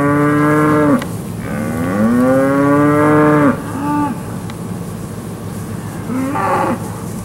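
Angus calves and steers mooing at a cattle auction, several long drawn-out bellowing moos close by, one after another, with a steady low background hum.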